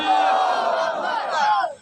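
A large crowd at a religious conference commemorating the martyrs of Karbala roars the Takbir slogan in unison, a loud, sustained chorus of voices lasting nearly two seconds before cutting off.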